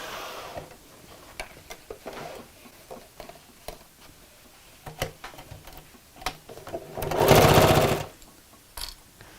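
Sewing machine stitching denim bag straps, a short close burst of rapid stitching near the end after scattered ticks and light handling clicks, with no talking.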